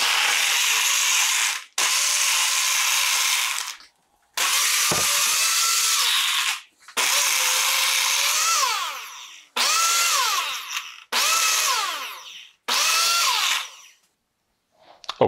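A Mr. Coffee single-serve blender blends a frappe with ice in loud, steady whirring bursts: about seven runs separated by short pauses, the later ones shorter and rising in pitch. No one speaks.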